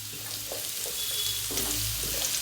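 Mushrooms fry lightly in a little oil with a soft, even sizzle, broken by a few stirring scrapes and clicks from a spoon in the pan, close and fairly quiet, with no talk.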